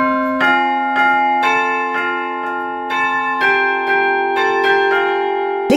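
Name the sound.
church bells of Saint-Didier church, Courzieu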